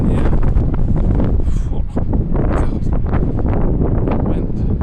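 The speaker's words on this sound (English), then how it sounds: "God, wind." Strong gusty wind buffets the microphone in a continuous, heavy roar, with muffled voices faintly underneath.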